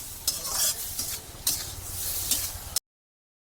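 South Indian-style fried egg sizzles steadily in a pan while being stirred, with a few scraping strokes against the metal, and then the sound cuts off abruptly.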